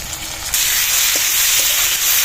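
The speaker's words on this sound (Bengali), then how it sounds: "তেলটা গরম হয়ে গেছে, পেঁয়াজটা দিয়ে দিচ্ছি।" Onion and tomato dropped into hot oil, setting off a steady, bright sizzling hiss that swells abruptly after a brief quieter start and holds evenly close by.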